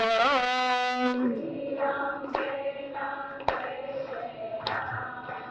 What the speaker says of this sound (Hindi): ताली जोर से बजाए।